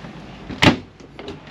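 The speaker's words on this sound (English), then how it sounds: "And then open it. Got quite a deep cabinet here for storing all your pots and pans." A deep kitchen cabinet door in a 2024 Brownhills Epic motorhome opens with a single short, close thud-like clack, followed by faint soft rattles in a quiet interior.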